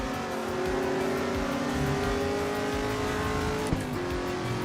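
Camaro race car engine in Assetto Corsa EVO, a loud sustained roar holding a steady pitch with a brief shift blip near the end, close and continuous with no talking.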